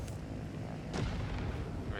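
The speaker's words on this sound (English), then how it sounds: "Cannon works." A tank cannon fires in a video game vehicle build, one low, booming shot with a rumbling tail, heard alongside the steady drone of the game.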